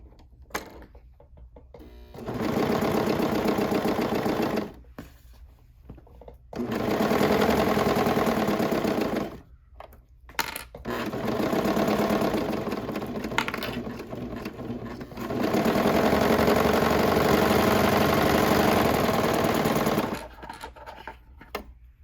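Sewing machine stitching skirt seams, four bursts of fast rhythmic mechanical whirring separated by short quiet pauses, close and steady, with no talk.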